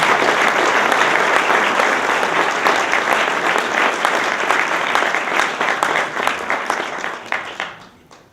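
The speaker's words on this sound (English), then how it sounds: "Let's give a round of applause to the Burlington Free Press." Sustained audience applause at an award ceremony, dense steady clapping from a large crowd that holds loud for several seconds before tapering off at the end.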